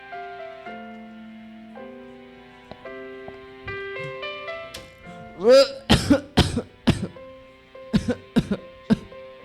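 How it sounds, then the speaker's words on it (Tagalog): Harsh, close coughing in a rapid series of bursts, following a stretch of soft sustained music tones. "Ba't parang inuubo ka ata?"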